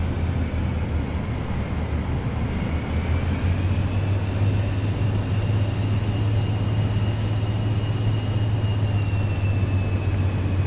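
Jet engine thrust building as an airliner taxis uphill in Flight Simulator 2024, a steady loud low rumble with a rising whine held throughout.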